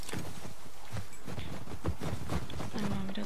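Horse hooves clip-clopping in the video game The Last of Us Part II, a steady walking rhythm of soft thuds over ambient background, moderately close, with no talk.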